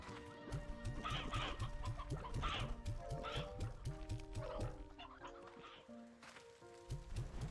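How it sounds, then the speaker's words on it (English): Chickens in the video game Slime Rancher 2 cluck in quick, rhythmic bursts, close and clear. A steady low hum sits underneath, with a few tonal chirps and game sounds mixed in. "Some of the sounds the chickens make are great."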